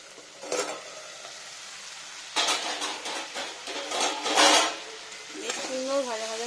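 Green pumpkin fries and is stirred in a pan, with soft sizzling broken by bursts of scraping and clatter from the stirring, while a voice speaks over it at moderate loudness.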